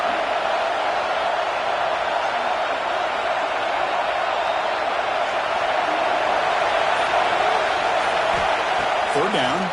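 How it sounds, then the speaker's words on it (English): A dense, steady roar from a packed stadium crowd in the College Football 26 video game rumbles continuously, loud and unbroken, with a commentator talking over it. "listen to this crowd noise. This stadium is vibrating."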